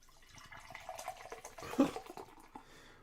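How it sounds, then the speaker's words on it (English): Beer poured into a glass, a soft watery trickle that builds to a brief gurgling splash near the middle, close and moderately quiet, with no voices. "Let's pour it into a glass and see what color it is."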